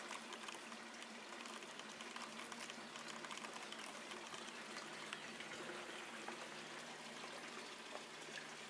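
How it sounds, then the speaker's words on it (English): Steady water flows and trickles into an aquaponics reservoir without pause, a soft continuous rushing with faint splashing, heard alone at low level. "we have water coming back into the reservoir"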